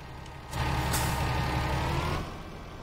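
A truck in the video game Farming Simulator 19 gives an air brake hiss, a loud burst of about a second and a half over a steady engine rumble, then fading back to idle.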